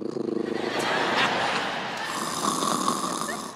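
A person imitates a small dog snoring, voicing a few seconds of raspy, wheezing snorts at close range, alone without other speech.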